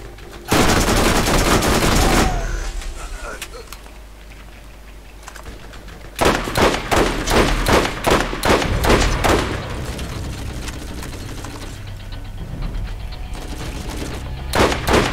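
Gunfire in the video game Borderlands comes in loud bursts of rapid automatic shots with sharp booms, separated by quieter stretches of game ambience and rattling action.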